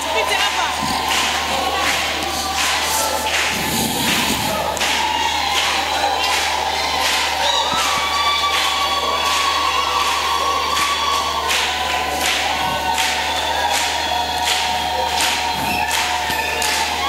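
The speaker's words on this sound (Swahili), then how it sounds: "Wewe uliyebaki nyuma, piga makofi mbele za Bwana." A church congregation claps hands together in a dense, steady rhythmic patter that continues throughout, with crowd voices mixed in.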